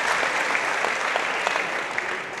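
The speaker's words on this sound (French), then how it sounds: "s'il y a autant d'applaudissements, c'est parce que le public, il veut que ça dure" A crowd applauding at a pétanque final, dense continuous clapping with no voices, loud and steady throughout.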